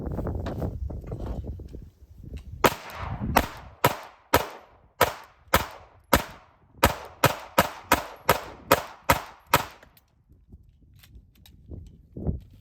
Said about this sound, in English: Now we will be test firing the Shadow Systems MR918.